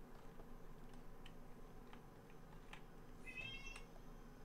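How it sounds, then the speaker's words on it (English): A cat meows quietly in a game setting, a short faint tonal cry near the end over a low steady background with soft ticking clicks. "Oh, I hear the kitty kitty."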